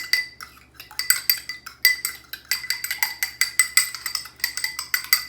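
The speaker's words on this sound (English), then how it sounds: "I'm just going to mix up just beat up my egg" An egg beaten in a bowl with a fork or whisk while making pie crust: rapid, steady metallic clinking strokes against the bowl, close and clear, repeating in quick bursts with no talking.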